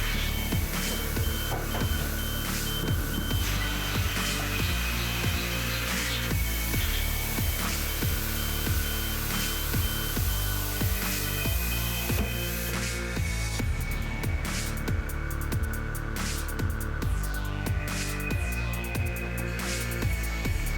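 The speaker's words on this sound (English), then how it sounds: "The machine is running the whole time." A Haas CNC mill runs steadily in a machine shop, a dense continuous mechanical whir with repeating ticks and tonal spindle whine, the texture shifting partway through as the cutting changes.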